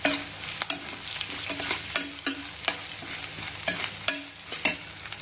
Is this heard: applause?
no